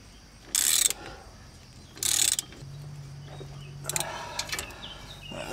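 A ratchet works a bolt loose on the front wheel hub of a 2008 Chevy Impala: two short, loud bursts of rapid clicking, then a longer, more scattered stretch of ratcheting, all close up with no talking.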